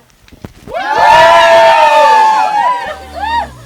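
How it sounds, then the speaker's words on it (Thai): A fan club crowd cheering and shouting together in a loud swell lasting a couple of seconds, then a shorter second burst of cheers, close by. "ฟังเสียงแฟนคลับมาหน่อยนะ"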